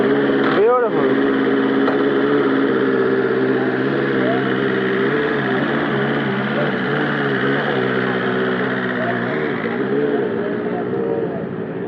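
BMW S1000RR inline-four motorcycle on its stock exhaust, running steadily with a loud, even drone and slight pitch swells throughout, while people talk over it.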